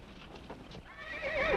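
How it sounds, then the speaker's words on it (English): Horses whinny with a rising, wavering neigh near the end while hooves clip-clop in short uneven knocks beforehand, all fairly close and unaccompanied by talk. "Quiet those horses!"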